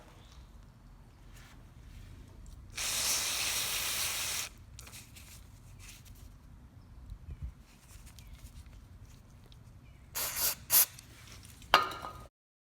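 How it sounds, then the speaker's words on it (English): An aerosol spray cleaner hisses in one steady burst of about a second and a half into a part off a Poulan lawnmower, followed by quiet handling and a few short, sharper spray bursts near the end. "just spray it out."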